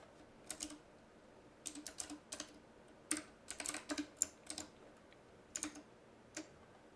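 Quiet, close computer keyboard typing while entering code, coming in irregular short bursts of quick clicks separated by pauses, with no voices.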